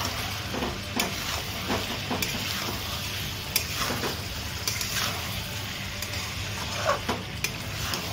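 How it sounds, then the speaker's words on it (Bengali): Chopped tomato being stirred into frying gravy chicken, a soft continuous sizzle under intermittent spatula scrapes and light clinks against the pot, fairly quiet and close. "এখন দিয়ে দিচ্ছি টমেটো কুচি। আবারও টমেটোটাকে ভালোভাবে মিক্স করে নেব।"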